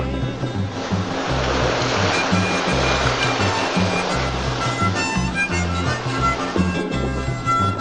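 Open ocean waves on a Pacific sailing passage across a stretch of crossed seas, a steady loud rush of water with low rumbling surges against the boat and no voices.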